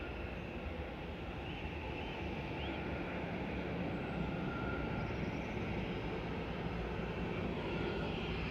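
A Ryanair Boeing 737 MAX 8-200 arriving from Alicante lands at Manchester Airport with a sustained, broad jet roar and rumble that holds steady and builds slightly, with no voices.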